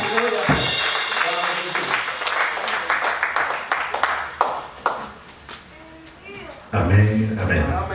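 A church congregation stands to applaud and cheer in praise, a dense wash of clapping and voices filling the room, swelling with bursts of shouting before a brief lull and a loud renewed surge near the end.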